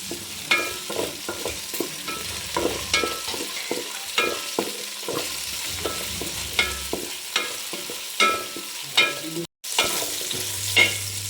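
Shallots, ginger, garlic and green chillies being sautéed in oil with mustard seeds in a Kerala uruli, a steady sizzle with repeated spoon scrapes and knocks in an uneven rhythm, close and fairly loud, with a short break near the end.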